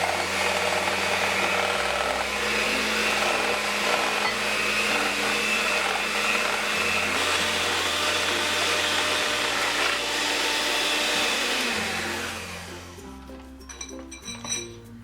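An electric mixer or blender whips a papaya ice cream mixture with the remaining milk added, droning loudly and steadily with shifts in motor pitch before winding down near the end into a few clinks.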